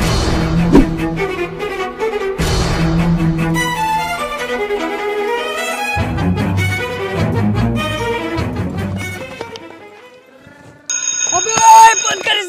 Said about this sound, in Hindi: मैं भूल जाता हूँ ना अपना जूस पीने का टाइम, तो इसलिए अलार्म लगा के रखा था।